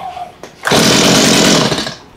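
A STIHL MS210 chainsaw fitted with a cheap aftermarket carburetor, choke on, fires up suddenly after a short pull, its loud, raspy two-stroke engine roaring close for over a second before dying away.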